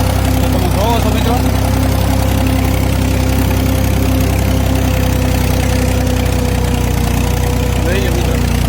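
Farm tractor engine running steadily in third gear while driving through a field, a loud, constant low drone with a fixed tonal hum, no pauses, with faint talk partly buried beneath it.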